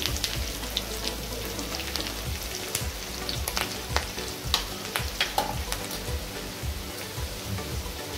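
Garlic, curry leaves and green chilies spluttering in hot oil with asafoetida tempering, a dense, continuous crackling sizzle full of rapid pops, close and fairly loud throughout, no speech.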